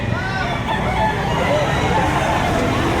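Roosters and chickens at a Saturday poultry market behind SM City Lipa, Batangas crow and cluck continuously among a loud background of crowd babble.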